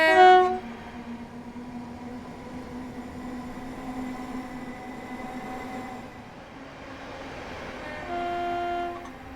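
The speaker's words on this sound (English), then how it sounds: "Here's a demonstration of what the Class 456 sounds like when she pulls away from a station." A Class 456 electric multiple unit in Train Simulator pulls away from a station, with a steady electric motor hum and tonal whine that shifts as it gains speed, opening with a louder burst and swelling again near the end.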